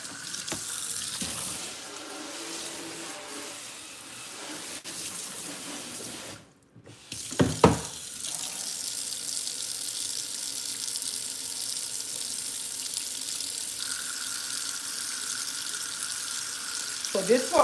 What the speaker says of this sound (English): So I'm gonna show some of y'all how to make dishwater